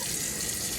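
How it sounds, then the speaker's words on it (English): Tap water runs steadily from a freshly repaired kitchen faucet, a continuous close hiss with no voices over it. "now you just cut your water on"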